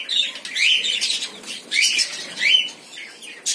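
Captive parakeets in a colony breeding cage give repeated high chirps and squawks mixed with the flutter of wings, in bursts at close range throughout.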